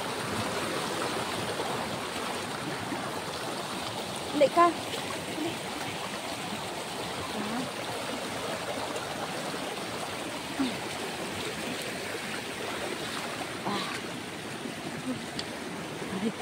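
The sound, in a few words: strong waves at the shore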